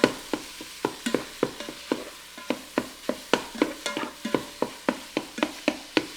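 Sharp, irregular clicks and scraping strokes from a utensil breaking up food in a pan for breakfast bread pudding, repeating steadily over a faint sizzle, close and fairly quiet.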